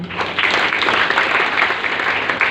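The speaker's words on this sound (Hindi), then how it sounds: "सर के लिए ताली दो" An audience at a business seminar applauds for a man, a steady, fairly loud run of clapping that holds evenly, with a little talk beneath it.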